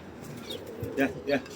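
Pigeons at a rooftop loft give a few soft, low coos close by, mixed with short chirps, while people talk nearby.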